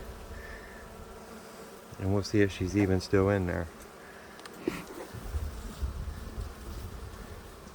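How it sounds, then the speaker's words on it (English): A constant low buzz of many bees from a swarmed hive hums throughout, with a person speaking briefly over it partway through. "let's see if we can get some of these bees to move out of the way."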